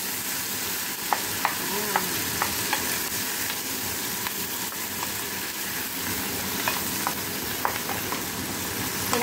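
Squid stirred and fried in a pan, a steady broad sizzle with scattered light clicks and taps of a utensil against the pan throughout, no voices.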